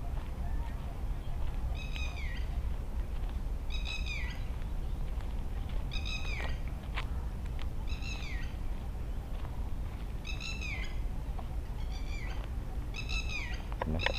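Birds call in a park at Phutthamonthon in Thailand, repeating short high downward-sweeping chirps every couple of seconds over a steady broad background hiss and wind-like rumble, with no talking.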